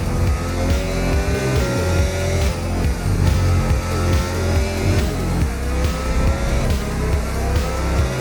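Race car engine roaring steadily through a qualifying lap at the Hungarian circuit in a racing video game, loud and continuous with repeated rising pitch sweeps as it works up through the gears, with no one talking.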